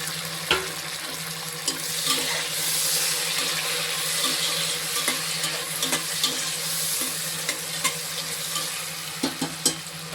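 Tomatoes and a slit green chili fry in oil in a pan for vegetable biryani, a steady close sizzle with scattered spatters and occasional stirring clicks, no voice.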